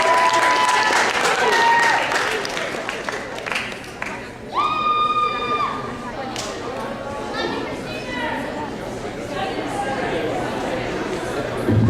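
An audience applauds a singer at a café performance evening, with a steady wash of clapping and crowd chatter and a few brief tonal cheers or whistles rising mid-way, fairly close and filling the room.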